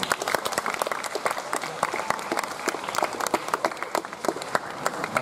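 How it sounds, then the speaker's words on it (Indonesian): An audience at an Indonesian community presentation breaks into lively applause, sharp individual claps distinct within a loud, sustained burst lasting several seconds. "beri tepuk tangan yang meriah untuk Pak Deo"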